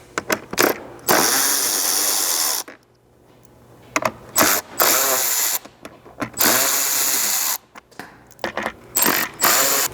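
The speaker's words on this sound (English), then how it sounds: "you'll need a 7mm socket to remove the 3 screws holding those 2 together here" A 7mm socket on a hand ratchet backs screws out of a Chevrolet Colorado ZR2 front bumper fascia in quick, close clicking bursts, separated by short pauses as the tool is repositioned.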